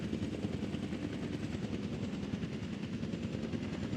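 An ADAC rescue helicopter in Jurassic World Evolution 2, a steady loud rotor thrum with rapid chopping pulses that continues unbroken throughout.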